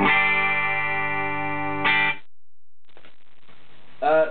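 A clean electric guitar with two Alnico 2 humbuckers rings out a sustained, bright chord, then a short second strum and a few quieter picked notes follow.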